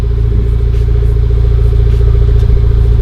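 Idling Honda Civic Type R, tuned to about 400 horsepower and fitted with an HKS exhaust, holds a steady, loud, deep burble close by with a rapid even pulse throughout, no revving.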